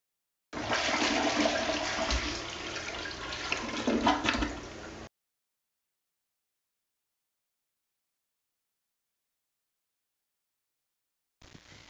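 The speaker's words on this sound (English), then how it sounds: "Now go flush the toilet when I do the restroom dance!" Toilet flush sound effect in a ScratchJr animation: a loud rushing, gurgling flush lasting about four seconds, then silence, with a short burst of sound returning at the very end.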